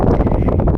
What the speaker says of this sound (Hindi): हे तेज़ हवा आ गई फिर से।